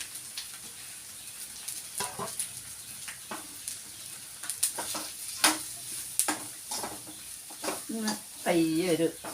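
Grated coconut frying in a pan with a soft, steady sizzle, punctuated by scraping stirs, while a person talks over it and occasional bird calls sound in the background.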